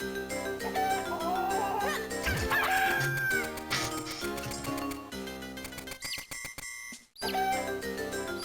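Chickens clucking and crowing as game sound effects in The Legend of Zelda: The Minish Cap, the bird calls repeating over a busy melodic background soundtrack, with a brief drop-out near the end.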